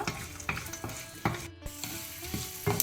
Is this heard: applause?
no